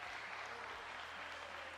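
A crowd applauds medalists at a para shooting world championship air rifle final in Lima, a steady, even wash of clapping held at a distance throughout.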